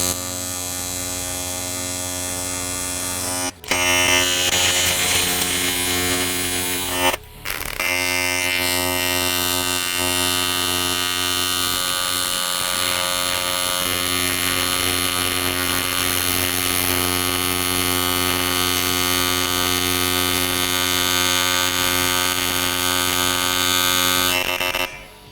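A TIG welder welding right into a corner, a steady loud buzzing hum with crackling hiss that runs continuously, broken by two brief pauses.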